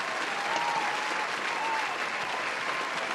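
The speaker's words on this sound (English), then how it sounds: "So, round of applause. Ronson Hawkins," Studio audience applauding a guest on an interview show, a steady wash of many hands clapping without a break, moderately loud and even.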